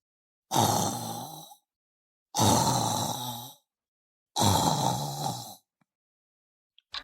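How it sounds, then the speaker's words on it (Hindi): Three loud, rasping snores from a woman lying in bed, each about a second long, evenly spaced with silent pauses between, close and alone, followed by a faint click. "और फिर आंखें बंद करते ही पहला खर्राटा।"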